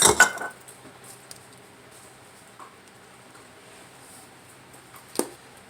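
Glass canning jars of dehydrated onions clink sharply as they are handled, with one loud clatter at the start, a few faint taps, and another clear clink near the end in an otherwise quiet room.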